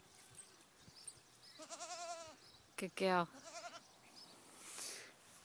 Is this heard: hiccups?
no